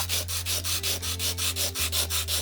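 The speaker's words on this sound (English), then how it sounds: "So with the sandpaper, you can work through the layers, sand it back to the white if you want that white highlight." Sandpaper rubbed back and forth over an oil and ink painting, a rapid even rhythm of about ten strokes under a steady low hum, close and clear.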